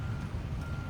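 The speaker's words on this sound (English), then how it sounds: "Baby, she's running." The engine of a 1950 Ford Custom Deluxe Tudor idles with a steady low rumble just after starting, alone for a brief moment.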